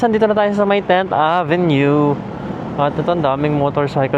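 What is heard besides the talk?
None of the usual background noises is heard.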